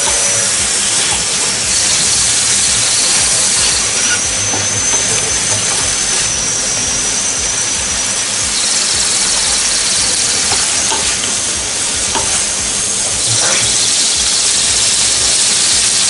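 Spices frying in a pan hiss and sizzle loudly and steadily as a little water is added while cooking bitter gourd with fish roe, a close, continuous steam sputter with a few sharper crackles.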